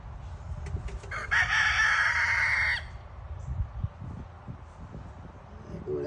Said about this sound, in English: There go that rooster.